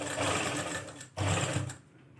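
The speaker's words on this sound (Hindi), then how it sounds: "और यहाँ पे सिलाई लगाएंगे।" Sewing machine running steadily as fabric strips are stitched onto a trouser hem, a loud close whirring with a brief pause midway before resuming, then tapering off.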